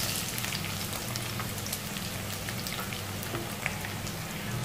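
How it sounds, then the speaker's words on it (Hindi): Onions fry in oil in a kadai, giving a dense, steady crackling sizzle like rain that stays even and moderately loud from start to finish. "प्याज को थोड़ा गोल्डन कलर जैसे फ्राई कर लेंगे"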